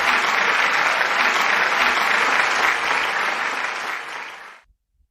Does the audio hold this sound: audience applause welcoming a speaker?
yes